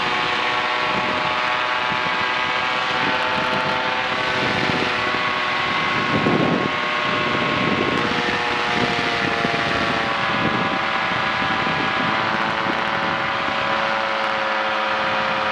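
A light airplane powered by a Yamaha Phazer snowmobile engine drones loudly and steadily through its takeoff run, with the engine pitch shifting slightly and wind rushing over the microphone.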